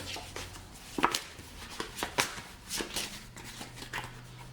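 A deck of game cards for the Descent 2nd Edition board game is shuffled by hand at close range, producing a few quick, crisp riffling bursts separated by short pauses.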